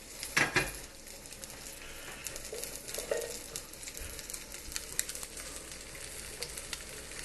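Chicken thighs sizzling in hot oil in a pan, a steady low crackle running throughout with a few sharper clinks of utensils near the start, no one talking.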